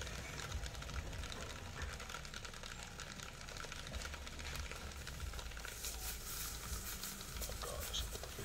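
Liquid nitrogen boils in a container during a freeze test on an Apple iPad, giving a steady, dense hiss and crackling sizzle that runs throughout at moderate level, brightening near the end.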